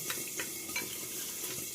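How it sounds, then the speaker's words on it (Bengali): A spoon stirs a spice paste with a little water in a bowl, making soft, wet scraping and light tapping strokes at a quiet, close level against a faint background hiss. "অল্প করে এতে জল দিয়ে দেবো সুন্দর একটা পেস্ট বানিয়ে নেব"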